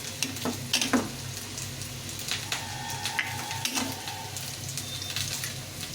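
Potatoes fry in a pan for a vegetarian Bengali vegetable dish, giving a soft, steady sizzle broken by occasional clicks and crackles of stirring, fairly quiet and with no talk.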